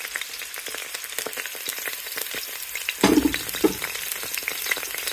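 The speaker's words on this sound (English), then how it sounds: "so that I can get the sizzle out of it." Food frying in hot oil gives a steady, close sizzle and crackle throughout, with a louder burst of spattering around the midpoint as something is stirred or added to the pan.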